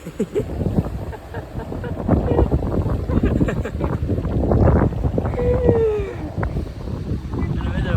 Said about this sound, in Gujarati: પવન એટલો છે